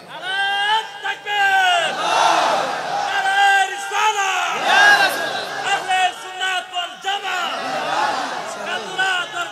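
A large crowd at a religious rally in Madhabpur field chants slogans loudly and in rhythm, with many voices rising and falling together in repeated call-and-response bursts.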